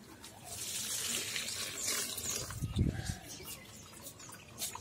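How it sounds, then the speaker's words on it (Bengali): Water is poured from a mug onto plants in a short, soft splash and trickle, faint against a steady background hiss. "গাছে জল দিচ্ছে।"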